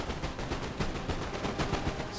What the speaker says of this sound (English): So you can see the frantic gunfire going on here.